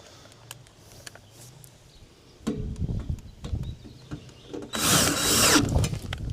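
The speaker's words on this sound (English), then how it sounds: "I'm going to put these 4 screws in." A power drill drives screws into a panel of a York gas package unit in two whirring bursts, the second louder and longer. Quiet handling noises come between them.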